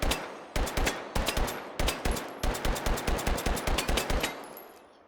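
A Glock 17 9mm pistol in the H3VR virtual reality shooting game fires in fast bursts of sharp, loud shots, grouped in quick clusters with brief pauses, then fades out.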